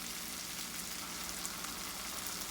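Green peppers and a giant onion fry in a big skillet, giving a steady, even sizzle with fine crackle throughout, close and moderately quiet with no voices.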